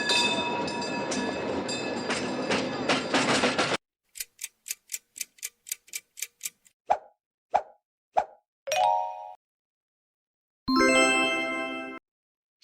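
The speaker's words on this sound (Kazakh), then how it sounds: "Бұл трамвай." A tram heard alone: a steady rumbling run with a tonal whine, then a rapid series of sharp clicks and dings, and finally a few short tonal bell or horn bursts separated by silence.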